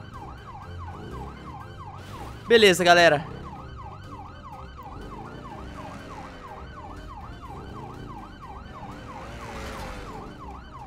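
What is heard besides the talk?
police siren in GTA V Online video game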